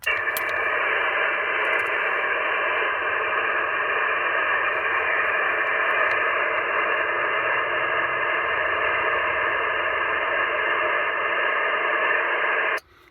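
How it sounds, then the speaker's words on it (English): Weak amateur radio signal relayed through the QO-100 geostationary satellite to a mobile ground station, heard as a steady, even hiss of static and band noise lasting about thirteen seconds with no clear voice, cutting off abruptly at the end. "your signal was very weak"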